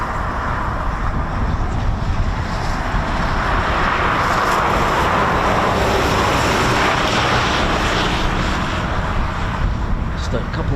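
Eurofighter Typhoon FGR4 jets fly at RAF Coningsby, making a broad, steady roar that stays loud throughout with no clear fade.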